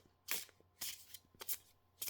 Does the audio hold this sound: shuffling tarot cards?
yes